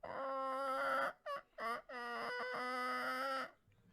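A turkey call blown to mimic clucking chickens, giving a harmonic, nasal clucking tone in several bursts with short gaps between them. It is close and loud, with no talk over it.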